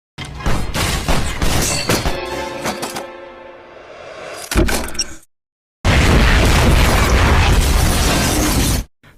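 A computer bursts apart in a film explosion, sharp cracks and shattering bursts mixed with mechanical rumbling, dropping to a brief silence before a second loud, sustained roaring blast fills the rest.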